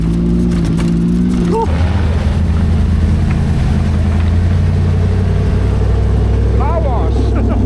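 A dune buggy ploughs through deep water on the Rubicon Trail, its engine roaring loud and close amid heavy splashing and rushing water, with brief shouted voices over the din.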